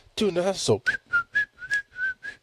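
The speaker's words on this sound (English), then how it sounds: "I hate whistling on podcasts. I do not know why I did that" A person whistles a short tune of several separate notes after a brief burst of vocal sound at the start.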